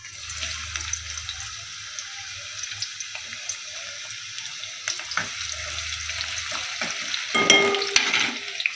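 Chopped onions fry in hot oil for Maggi noodles, a close crackling sizzle broken by stirring scrapes and clatter, with a low hum at the start and a louder burst of stirring near the end.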